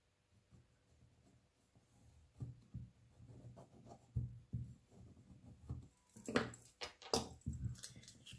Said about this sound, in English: I'm just going to draw around this.